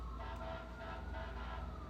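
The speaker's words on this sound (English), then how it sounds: "And the sirens in the background." Emergency sirens sound faintly in the distance, a low, steady wail beneath background noise for about two seconds, with no talking.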